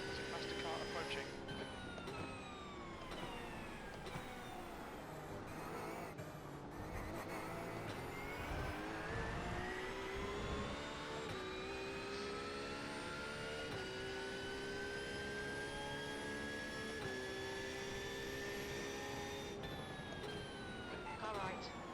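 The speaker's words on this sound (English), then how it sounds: "There's a faster car approaching." A race car in the iRacing sim, an IMSA event at Imola, drives at speed while a faster car draws near from behind. A loud, continuous engine howl rises and falls in pitch through gear changes, with voices now and then over it.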